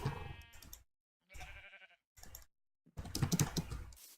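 Several short bleats of a sheep in a video game sound in separate bursts with silent gaps between, fairly faint and a little electronic.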